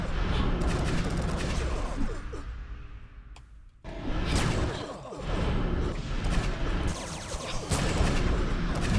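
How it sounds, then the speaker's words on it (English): An area-of-effect explosion attack in the Anarchy Online video game bursts loudly amid dense, continuous game noise, with a brief drop in the din before the booming blasts resume. "There's the explodey thing"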